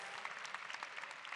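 An audience at an awards gala claps for banking and financial service finalists, a dense, even patter of many hands, fairly faint and distant, continuing steadily without a voice over it.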